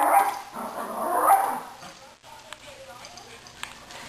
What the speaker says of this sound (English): There's the doggy. Oh, look at the doggy. He's barking.